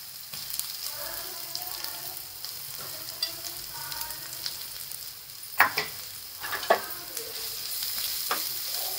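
Onion, ground spice paste, green chilli, garlic and cumin sauté in hot oil for a bottle gourd dish, a steady close sizzle broken by a few sharp scraping stirs of the spoon in the pan.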